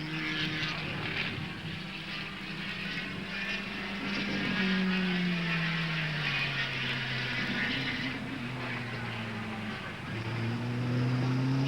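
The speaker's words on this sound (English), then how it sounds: "With the race about 2/3 over, Jim Clark starts to step up the pace and the pressure" Racing cars at the 1965 International 100 at Warwick Farm drone past steadily, a continuous engine whine rising and falling in pitch as cars pass, moderately loud and heard from trackside without talk.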